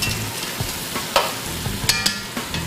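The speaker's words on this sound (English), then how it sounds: "try to make sure that these peppers come in contact with the bottom of the pot so they can start to cook down" Green bell peppers cooking down in a pot for Caribbean chicken, with a soft, steady sizzle and several sharp scraping stirs of a utensil against the pot's bottom.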